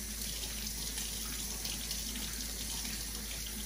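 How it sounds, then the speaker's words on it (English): Warm tap water runs steadily from a faucet into a sink while hands are washed, a constant close splashing hiss with no speech. "All I have to do is put them under some warm water"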